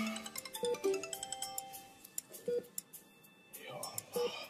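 A mobile phone ringing with a repeating electronic tone, fairly faint and recurring every second or two amid background talk and clatter.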